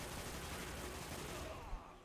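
A fusion rifle fires in a competitive shooter match as one dense, sustained burst of electronic gunfire. The noise fills nearly the whole moment, then cuts off in a sharp crack followed by a short fade.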